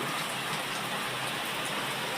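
Dense, even afternoon rain pouring steadily, a broad constant hiss with no breaks or voices.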